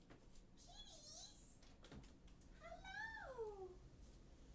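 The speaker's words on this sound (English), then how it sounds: "Kitties! Why? Why are you crying?" Kittens meow and cry in thin, rising and falling wails over a noisy indoor background, two calls a second apart, with faint talk nearby.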